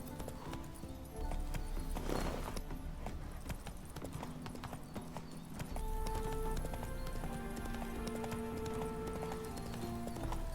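Roach the horse galloping in The Witcher 3, a dense, continuous drumming of hoofbeats close up, with a brief whinny early on and in-game music and ambience underneath.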